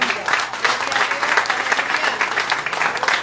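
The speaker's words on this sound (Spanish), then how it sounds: "Denle ese aplauso al Señor." Church congregation applauding during a Spanish-language sermon, loud, dense clapping from many people sustained evenly throughout.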